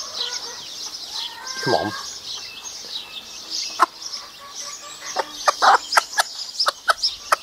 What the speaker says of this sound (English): she's trying to call, that's the calling out noise